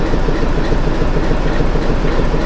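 A train runs on rails through Goram Ghat in Rajasthan, a loud, dense, continuous rumble with rattling wagons and rhythmic clatter heard from on board.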